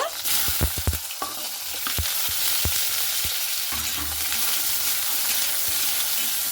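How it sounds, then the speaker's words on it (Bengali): Ridge gourd pieces frying in hot oil, a loud, close, continuous sizzle with several sharp knocks and scrapes of a spatula stirring early on. "এরপরে ওই তেলে আমি দিয়ে দিচ্ছি সে ঝিঙেগুলো হালকা করে ভেজে নেব"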